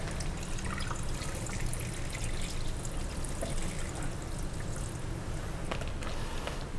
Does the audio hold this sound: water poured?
yes